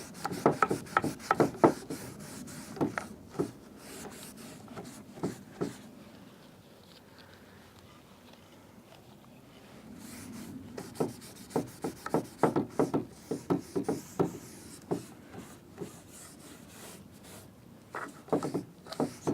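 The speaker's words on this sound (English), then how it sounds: "I just kind of wiped off the excess with my rag" A rag wipes excess dark wax off a surface in repeated rubbing strokes, dry and scratchy, pausing briefly midway before resuming in quick bursts.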